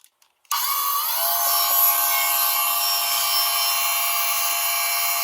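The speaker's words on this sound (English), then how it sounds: "Now we'll cut the excess off with the Dremel tool" A Dremel rotary tool trims excess metal from a primer pocket on a brass case, spinning up abruptly after a brief quiet start into a loud, sustained high-pitched whine with a steady grinding edge.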